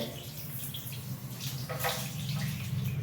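Water sloshing and splashing continuously during a baby's bath, a steady, moderately close watery wash with a few brighter splashes.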